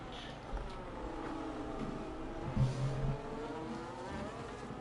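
Race cars in a racing game at Bahrain, engines droning and shifting pitch as they run through the circuit, with a brief louder engine surge midway.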